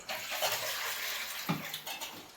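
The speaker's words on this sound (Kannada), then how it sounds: "ಸ್ವಲ್ಪ ನೀರು ತುಂಬ್ಕೊಂತೀನಿ" Tap water runs into a container at home with a continuous hissing, splashing flow, close and fairly quiet, marked by a few small knocks and thuds.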